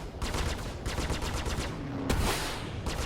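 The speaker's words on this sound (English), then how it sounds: "Now, we just missed with the cannon." Ship cannons fire in the space combat game Star Citizen during a Vanduul Swarm fight, rapid rattling bursts in a steady rhythm with short pauses, loud and close, no talk.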